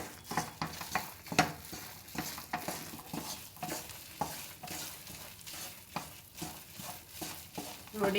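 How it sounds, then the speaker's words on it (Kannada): Mysore Pak gram-flour batter is stirred in ghee in a pan with a steady, rhythmic scraping and sloshing over a continuous sizzle, close and moderately loud, with no talking. "ಇವಾಗ ಒಂದೇ ಸಮ ಕೈ ಆಡೋಣ ಒಂದು ಕನ್ಸಿಸ್ಟೆನ್ಸಿ ಬರೋವರೆಗೆ"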